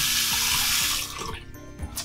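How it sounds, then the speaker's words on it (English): Water gushes from a bathroom tap in a full bath, a loud steady splashing stream for about a second that then quiets to gentler trickling and drips, nearby and with no talking. "And running water."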